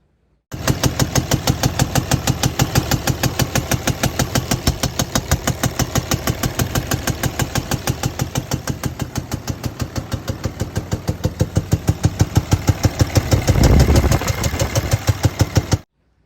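A worn 2003 Dodge Cummins 5.9 common rail diesel with an injector fault and blow-by runs steadily, its rhythmic knocking pulses loud and close, with a brief heavier thump near the end before it cuts off.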